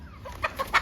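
A rooster or chicks give three quick, soft clucks close by, rising in a short run over a quiet background.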